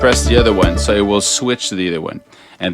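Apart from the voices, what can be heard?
No everyday noises stand out.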